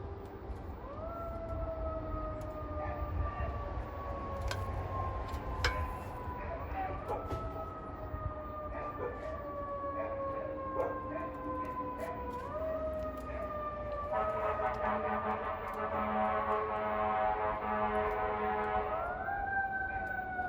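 A wailing siren rises and falls repeatedly in the distance, steady under faint background noise, with a howling dog-like tone joining near the end.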